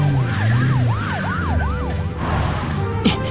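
A cartoon police car siren wails in steady rising and falling sweeps, loud and close, with a short clatter near the end.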